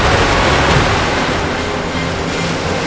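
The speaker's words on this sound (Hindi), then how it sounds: "अब तो ये जल नीचे उतर रहा है" River water rushing down in a loud, steady roar of turbulent flow, full and close, with no voices over it.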